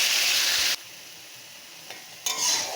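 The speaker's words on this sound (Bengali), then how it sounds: "থোড়টা আমি এখন এই তেলের মধ্যে দিয়ে দেব।" Banana stem paste hits hot oil with a loud, bright sizzle that drops away into quiet, then flares back up into strong hissing near the end.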